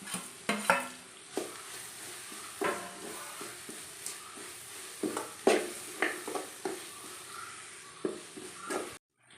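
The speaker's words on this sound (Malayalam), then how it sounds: "നമുക്ക് ഇഞ്ചിയും വെളുത്തുള്ളിയും കൂടെ ചതച്ചും കൂടി ഇട്ട് കൊടുക്കാം" Onions, ginger and crushed garlic sauté in a pan, with a steady low sizzle broken by repeated scraping stirs of a spoon against the metal, close and fairly loud, with no talking.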